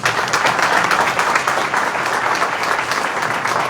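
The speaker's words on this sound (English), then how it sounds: "How about a round of applause for our candidates?" Audience applause at a Thibodaux District C council candidates forum, a dense, steady wash of many hands clapping that stays loud and even throughout without a break.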